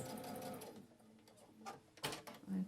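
Sewing machine stitching backward along a seam on medical scrubs, a soft mechanical whir with short stop-start bursts that grow louder toward the end.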